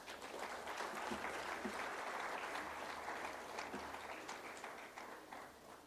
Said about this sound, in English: A huge round of applause for Ms.